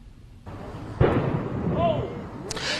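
Gunfire near a police scene during live news coverage: one sharp, loud report bursts out, followed by lingering rumble and a later crack, heard outdoors over background noise and distant voices.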